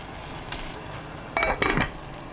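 A metal pot lid clatters shut with a couple of close, bright clinks over a soup of kelp broth, soup soy sauce, anchovy fish sauce, minced garlic and chili peppers, set against a faint background hiss.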